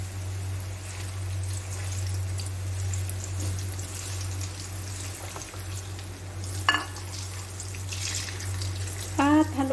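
Bananas frying in melted, browning sugar in a pan, a steady soft sizzle running throughout with occasional stirring clatter and a few louder scrapes near the end, close up, and no talk.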